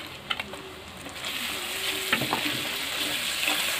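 Spice paste with Kashmiri chilli powder fries in oil in a pan for Bengali dak bungalow chicken curry, giving a steady close hiss with a few scraping stirs and soft clicks.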